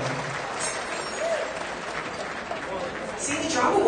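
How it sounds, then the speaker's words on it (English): Audience applause fills the room at a charity fur ball fundraiser for an animal shelter, a steady dense clapping throughout that swells louder near the end, with no talking over it. "Let's give a big round of applause because we just did that big for Wilco."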